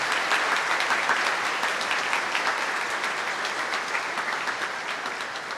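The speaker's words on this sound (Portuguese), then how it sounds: "Uma salva de palmas para os nossos crismandos." Sustained applause from a church congregation at a confirmation Mass fills the space, a dense, steady clatter of many hands clapping that tapers slightly toward the end.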